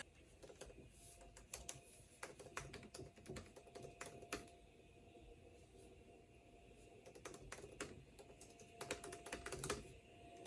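Quiet, irregular clicking of keys typed on a 2018 MacBook Pro keyboard, with bursts of rapid taps and short pauses, close by and faint.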